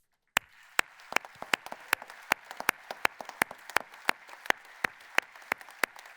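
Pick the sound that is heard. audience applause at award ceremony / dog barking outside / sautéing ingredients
audience applause at award ceremony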